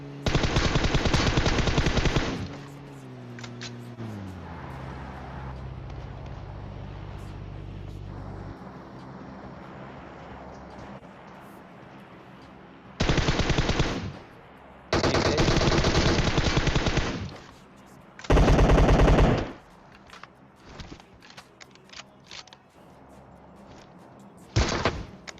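Bursts of rapid automatic gunfire in a PUBG Mobile sniping match, loud and close, separated by stretches of quieter game ambience and engine hum, with no talking.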